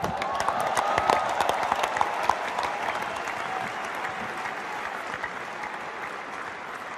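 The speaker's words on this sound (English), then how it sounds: "Before you start clapping" A large cricket stadium crowd applauds during a farewell speech, a steady wash of dense clapping and crowd noise that holds evenly throughout.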